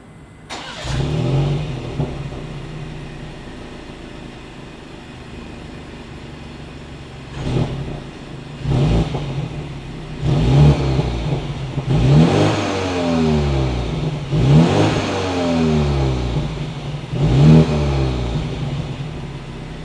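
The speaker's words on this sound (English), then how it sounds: "As always, here is that exhaust clip." A 2022 BMW X4 M Sport exhaust starts with a sharp bark, then idles. A series of hard revs follows, each one rising and falling back to idle, loud and close with no talking.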